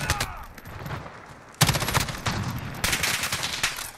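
An MCX Virtus SBR rifle fires in Call of Duty: Modern Warfare, loud close bursts of rapid automatic gunfire broken by a short pause, with no talk over the shots.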